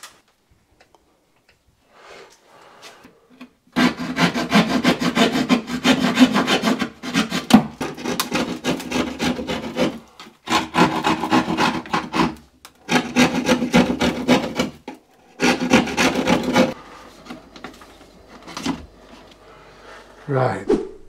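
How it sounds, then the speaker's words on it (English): Phillips screwdriver driving a screw into wood on a building job, heard as bursts of gritty rubbing and rasping separated by short pauses, fairly close and loud, with talk around it. "get your Phillips screwdriver and screw that screw in to hold it"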